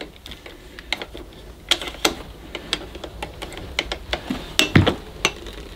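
Rapid irregular plastic clicks and rattles, close up, as the power cord of a 1982 Hoover Junior Dirtsearcher U1108 vacuum cleaner is released and unspools in jerky bursts.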